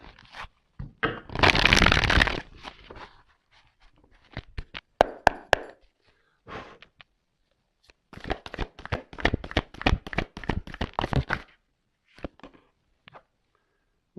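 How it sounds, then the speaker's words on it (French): Tarot cards are drawn and handled at a table in a brisk run of papery shuffles, riffles and taps, with a long riffle near two seconds and a dense burst of flicks later. "on va prendre encore quelques petites cartes là"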